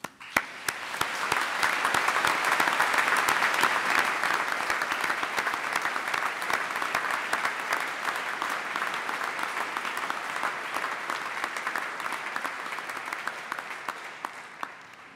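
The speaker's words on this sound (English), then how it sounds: "we and you should be given the opportunity to applaud them in recognition of their achievements" A large audience at a university graduation ceremony gives a long round of applause for graduating medical students. The dense clapping swells quickly, holds steady and fades gradually toward the end.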